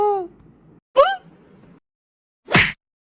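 Two short, loud meow-like cries with rising and falling pitch, then a sharp hissing burst near the end, all alone without talk.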